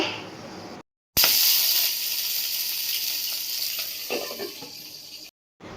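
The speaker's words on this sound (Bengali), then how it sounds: "এখন আমি এটা সর্ষের তেলে ভালো করে একটু ভাজা করে নেব।" Fish head coated in salt and turmeric frying in mustard oil, giving a steady, fairly loud hissing sizzle with a brief quiet break and a few faint crackles.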